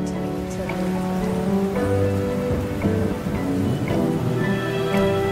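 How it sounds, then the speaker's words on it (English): Steady rain in a song's music video, a dense continuous hiss with a low rumble of thunder, blended under the song's music. "Anytime you add rain to a song, it automatically gives you atmosphere."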